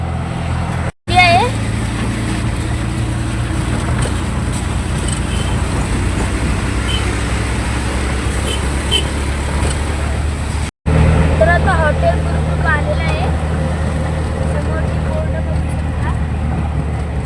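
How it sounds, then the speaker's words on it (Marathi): Road traffic of auto rickshaws, motorbikes and private cars on a Konkan route during Ganpati festival travel, a steady, fairly loud engine and tyre rumble with brief higher tonal calls near the start and end. "कोण रिक्षा घेऊन चालले कोण बाईकवर चालले आहेत कोण प्रायव्हेट गाड्या करून चालल्यात आहेत"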